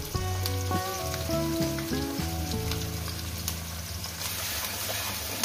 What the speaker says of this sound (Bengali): পেঁয়াজটাকে আমি মিনিমাম 2 মিনিট ভেজে নেব